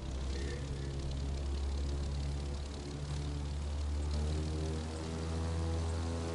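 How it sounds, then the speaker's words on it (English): A propeller airplane in the racing game The Crew 2 drones steadily with a buzzing engine hum that stays loud and even throughout. "I'm just gonna use my airplane to get the rest of the way."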